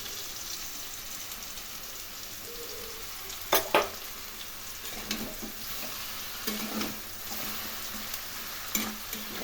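Vegetable curry seasoned with chilli and ground coriander frying in a pan while being stirred, a soft steady sizzle broken by a few brief scraping clinks of the spoon, close by with no talk.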